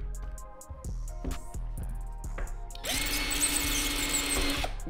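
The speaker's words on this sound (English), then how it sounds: "I got my Stanley handle on my drill" A handheld power drill spins with a Stanley cup handle fitted on it, pulsing in short whirring bursts before settling into a loud, sustained grinding whine, close and with no talking.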